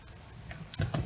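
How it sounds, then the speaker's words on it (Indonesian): Keys tapping on a computer keyboard while entering commands on a Linux Debian 8 machine, a short burst of quiet, quick clicks with a couple of firmer strokes near the end. "Kita ketikkan"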